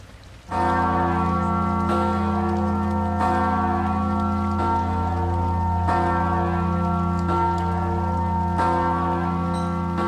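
A massive 9,801-pound cast church bell rings out alone, each loud strike blooming into a rich, sustained hum of layered tones that overlaps the next stroke at a slow, steady pace.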